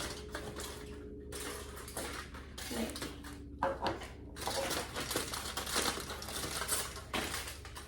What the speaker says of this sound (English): Now I can slide it in and tape it in place.